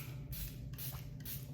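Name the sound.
Charlotte Tilbury Flawless Setting Spray being sprayed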